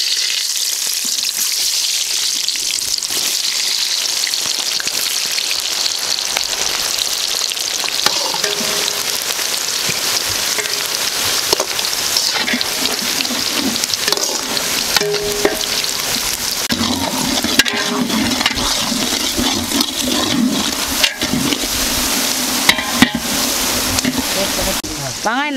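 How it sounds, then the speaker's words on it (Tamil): Onions frying in hot oil for jackfruit biryani, a steady, dense sizzle running throughout at close range, with occasional stirring clinks and a voice talking over it. "வெங்காயம் கொட்டி பல்லா சொல்லி எண்ணெயில் போட்டு வறுத்து எடுத்துக்கலாம்"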